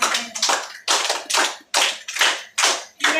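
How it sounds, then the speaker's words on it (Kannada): An audience applauding at a children's summer camp event, with loud, rhythmic bursts of group clapping repeating at a steady pace, close and without speech. "ಅರ್ಲಿ ಬರ್ಡ್ ಸಂಸ್ಥೆಗೆ ಒಂದು ದೊಡ್ಡದಾದ ಚಪ್ಪಾಳೆಯನ್ನು ನೀವು ಕೊಡಬೇಕು"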